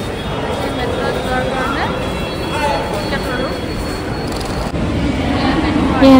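A Chennai metro train pulls into a station with a steady rushing rumble that swells louder toward the end, over the echoing hum of the platform.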